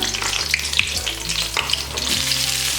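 Curry leaves and onion sizzle hard in hot oil for a dhaba-style chicken dish, a loud continuous fry with a few sharp pops and stirring scrapes, no voices.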